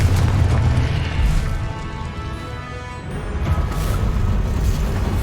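Confringo spell explosion in the Hogwarts Legacy video game, a loud, deep rumbling boom that rolls on for several seconds, dips in the middle, then swells again, with no voices.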